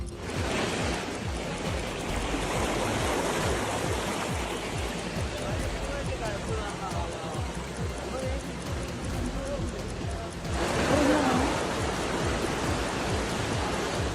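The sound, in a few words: heavy rain and flooded roads in Kozhikode, Kerala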